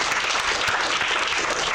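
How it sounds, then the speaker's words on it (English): An audience at a brewery pitch event claps steadily, a dense, even wash of applause that holds at full strength throughout, with no voices standing out. "Give them a round of applause."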